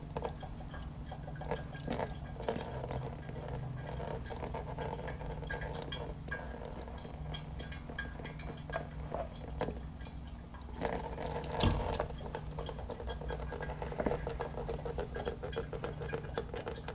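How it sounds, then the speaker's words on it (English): Engine oil from a Ferrari F430 drains out in a steady, faint liquid trickle into a pan, running continuously with small splashing surges and drips, no voices over it. "let that drain"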